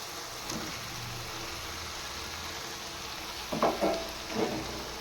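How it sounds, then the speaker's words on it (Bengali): Pieces of fried rohu fish drop into a hot, sizzling pan, making a steady frying hiss with a few louder crackling bursts near the end, with no voices. "এবার আমি ভেজে রাখা মাছগুলো দিয়ে দেব"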